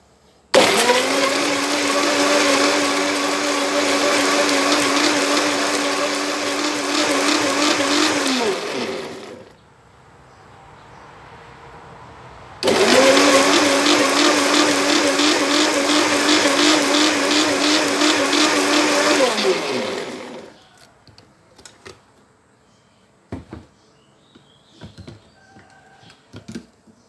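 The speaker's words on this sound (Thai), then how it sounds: "เราจะปั่นด้วยกันเลยครับผม" Electric blender whirring through herbs and water for steamed red tilapia, loud and close in two long continuous runs of about eight seconds each, separated by a brief quiet pause, with light kitchen clatter at the end.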